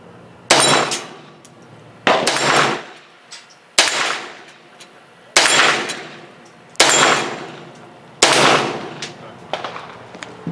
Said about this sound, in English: We're going to give a shot at that dueling tree.